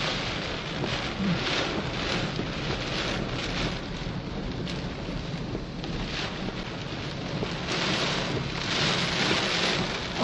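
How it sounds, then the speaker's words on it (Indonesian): Heavy rain drums steadily on the roof and windows of a Toyota Fortuner during a storm, with gusting wind and occasional low rumbles; constant and enveloping, no talking. "Kalau masalah hujan kan aman ya, kita di dalam mobil."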